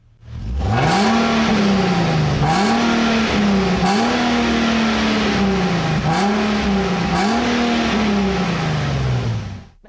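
An Infiniti G37 IPL with an upgraded exhaust revs hard again and again, five rising-and-falling surges in a steady rhythm, loud and close.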